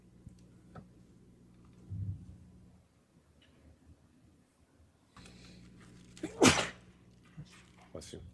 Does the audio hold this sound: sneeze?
yes